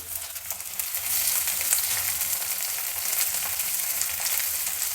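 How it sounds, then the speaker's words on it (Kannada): Chopped onion sizzles steadily in a hot pan after fenugreek seeds have been roasted, for a Karnataka-style gojju; a dense, continuous frying hiss stays close and even throughout with no voices. "ಈಗ ಮೆಂತ್ಯ ಎಲ್ಲ ರೋಸ್ಟ್ ಆದಮೇಲೆ ಈರುಳ್ಳಿ ಹಾಕ್ತಾಯಿದ್ದೀನಿ"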